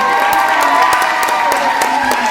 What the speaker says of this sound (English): And can we also give a round of applause to Dominic?